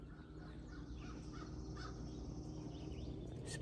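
A crow caws a few times at a distance over steady low outdoor rumble and faint background noise.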